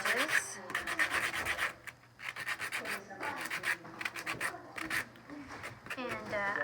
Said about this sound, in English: we want to sand down those edges